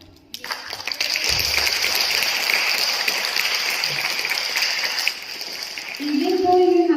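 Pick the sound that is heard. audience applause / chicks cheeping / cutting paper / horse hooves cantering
audience applause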